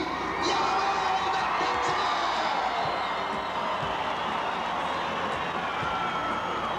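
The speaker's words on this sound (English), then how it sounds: "let's give a good round of applause to our winner tonight" A large crowd cheers and whoops in the stands for the winner of a tractor pull, a sustained roar of shouts and applause with children's high yells, loud and unbroken throughout.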